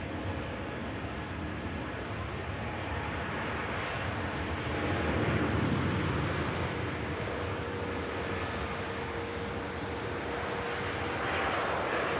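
An airliner on a repositioning flight takes off from Manchester Airport for Edinburgh with a loud, continuous engine roar that swells to a peak midway and then holds steady with a faint whine, with no voices present.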